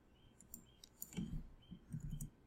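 A few soft, close computer mouse clicks come over a faint background hum, interspersed with low handling noises and irregular taps.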